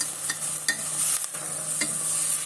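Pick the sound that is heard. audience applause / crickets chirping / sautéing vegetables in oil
sautéing vegetables in oil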